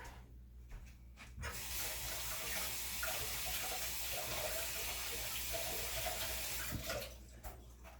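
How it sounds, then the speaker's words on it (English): Tap water gushes steadily into a sink for several seconds, starting and stopping abruptly, close by, with quieter handling noises before and after. "Run it under cold water."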